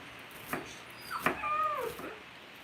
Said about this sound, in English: it is my pups communicating with one another